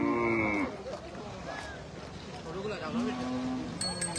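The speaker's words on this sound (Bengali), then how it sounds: "এই যে এই পাশে আছে গরু।" Cattle at a busy livestock market where a truckload of small local cows is being unloaded, with low mooing calls rising amid crowd noise and people talking nearby.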